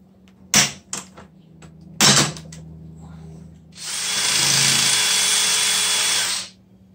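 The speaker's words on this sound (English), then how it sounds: "Now all I have to do is set the rivets, and I do that with my pop rivet." Pop rivet tool setting rivets while building a rotary T-press: two sharp snapping clicks, then a steady buzzing whir about three seconds long, close and clear with no talk.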